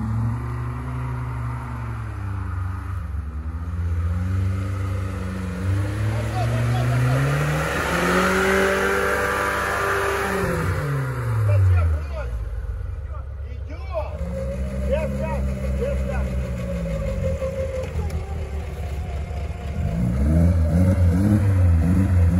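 A quad bike engine revs hard on a muddy forest climb, rising and falling in long surging sweeps. It is loud and close, with people talking over it at times.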